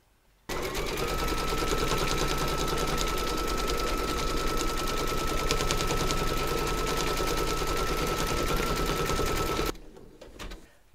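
A home embroidery sewing machine stitches in brown thread, running a steady, rapid, loud mechanical chatter without pause for about nine seconds before stopping abruptly, with no talk.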